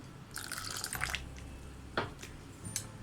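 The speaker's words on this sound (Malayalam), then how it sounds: "അപ്പോൾ നമുക്ക് കുറച്ചുകൂടി വെള്ളം ചേർത്ത് കൊടുക്കാം." Plain water is poured into thick appam batter in a few quiet, brief splashing trickles, close by, with no talking.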